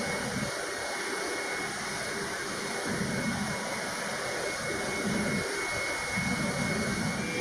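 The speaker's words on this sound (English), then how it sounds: "the sound of bomber engines landing at a British base" A loud, steady roar of a B-1B Lancer bomber's jet engines at RAF Fairford, droning continuously with a broad rushing rumble, sounding close and sustained without pause.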